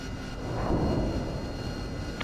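A Harrier jet in the DCS World flight simulator, its engine a low, steady rumbling roar that swells slightly and then holds, heard without speech.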